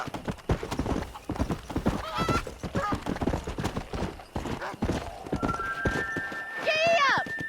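In the video game Red Dead Redemption, a horse gallops with rapid, rhythmic hoofbeats and whinnies several times, with voices talking over the pounding gait.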